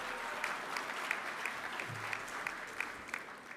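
An audience at a school athletics awards ceremony applauds the team's records and medalists, steady sustained clapping from a crowd in a hall, heard at a distance and fairly soft, with a few sharper claps standing out.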